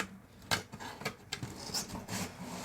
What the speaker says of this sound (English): It's got a nice little rip on the tape there, so that opens up super easily.